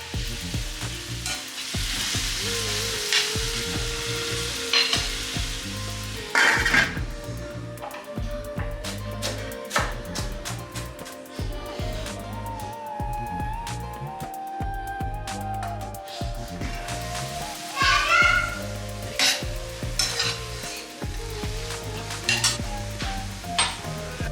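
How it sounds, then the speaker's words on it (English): Onion, green chillies and curry leaves sauté in a pan with a steady close sizzle, punctuated by rhythmic scrapes and clinks of a spatula stirring against the metal, continuing without talk. "Then sauteed some onion, green chillies and curry leaves until the onions turned soft and slightly browned."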